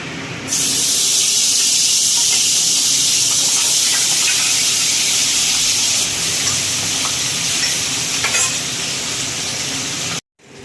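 Fish sizzles steadily in hot oil in a pan, a loud continuous frying hiss with occasional crackles and stirring, running alone without talk before cutting off abruptly near the end.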